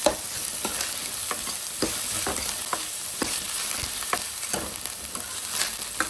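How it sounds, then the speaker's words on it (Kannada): Ginger garlic paste sizzles with onions in a pan for a dhaba-style capsicum curry, a constant frying hiss cut by regular scraping strokes of a spoon, close and moderately loud. "ಈರುಳ್ಳಿ ಮಗ್ಗದ ಮೇಲೆ ಶುಂಠಿ ಬೆಳ್ಳುಳ್ಳಿ ಪೇಸ್ಟ್ ಹಾಕೊಂತಿದ್ದೀನಿ ನಾವು ಇವಾಗ ಹಾಕೊಂಡೆ ಅದನ್ನು ಚೆನ್ನಾಗಿ ಹಸಿ ಸ್ಮೆಲ್ ಹೋಗೋದಕ್ಕೆ ಹುರ್ಕೋಬೇಕು ಫ್ರೈ ಮಾಡ್ಕೊಳ್ಳೋಣಂತೆ"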